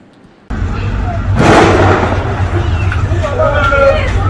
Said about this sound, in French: ce sont des coups de feu qui sont entendus ici dans la ville de Goma